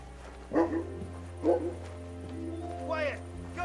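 A dog in the medieval role-playing game Kingdom Come Deliverance 2 gives a few sharp barks at moderate distance, spaced apart, with a voice speaking and other game sounds underneath.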